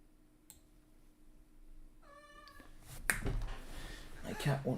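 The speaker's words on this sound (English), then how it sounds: "my cat won't shut up." A pet cat gives a short, quiet meow in the middle, followed by soft thumps and rustling nearby.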